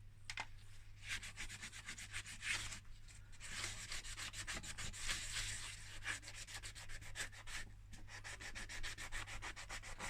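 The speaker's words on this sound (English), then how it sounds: "if I just use a bit of this wet and dry" Wet and dry sandpaper rubs back and forth on a Nissan Almera N16 wheel trim in quick, rhythmic strokes, close and fairly quiet over a low steady hum, with brief pauses.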